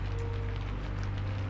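Steady rain falls without a break, a broad, even hiss of drops on a surface, with a low constant hum underneath and no voices.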